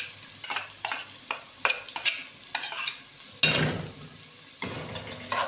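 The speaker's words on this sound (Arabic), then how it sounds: "هنحط على طول البصل." Onions go into hot ghee and oil in a pot. A utensil scrapes and stirs them in a quick series of close strikes over a steady sizzle, and a louder burst of frying follows as they settle into the fat.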